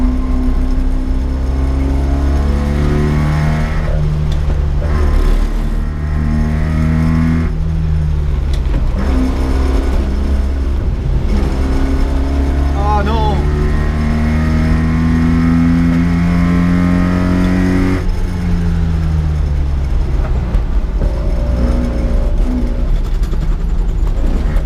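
A lowered 1980 Mitsubishi Minica's small engine revs hard while driving, loud and close, pitch climbing and dropping through repeated gear changes with steady road and wind noise.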